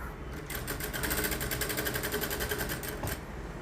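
Sewing machine stitching thread work on a kurti neckline gives a close, loud run of rapid mechanical stitching in a steady rhythm, starting and stopping once.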